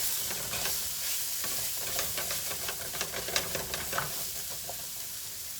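Arborio rice toasting in a hot pan while being stirred, giving a soft steady sizzle with scattered light scraping and crackling ticks, fairly quiet and close, with no talking.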